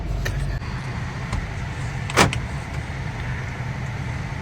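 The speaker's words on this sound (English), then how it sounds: "I have just come to the parking lot to get the car out." A car idles and moves off inside a parking lot, a steady low engine rumble with a brief sharp click or thump midway and faint ticks, no one speaking.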